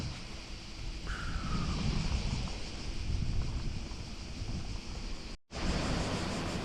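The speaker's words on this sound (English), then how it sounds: "Right, waterfall located." A waterfall near the old streets of Kotor makes a steady, dense broadband rush of falling water, constant and fairly loud throughout, broken only by a brief dropout near the end.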